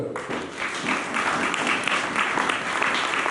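Church congregation applauding and clapping, a dense, steady wash of many hands that fills the whole moment at close range, with no talk over it.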